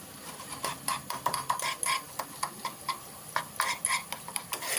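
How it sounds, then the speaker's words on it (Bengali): Fish masala with Kashmiri chili powder being stirred in a pan, rapid irregular clicks and scrapes of a utensil against metal over a soft sizzle, close by. "মশলাটাকে ভালোভাবে কষিয়ে নেব।"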